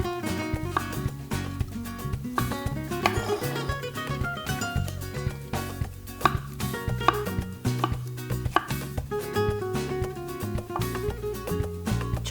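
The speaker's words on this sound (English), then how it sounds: "We are going to chop the tomatoes." Tomatoes being chopped with a knife for a Bengali fish curry, a quick run of light, regular taps against a board, heard close up under steady background music.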